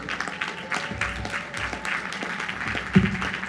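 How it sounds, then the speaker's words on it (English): A crowd at a Queens College commencement ceremony applauds parents and guardians, a steady wash of fairly distant clapping across a large space, continuing without pause. "Let's give them a round of applause."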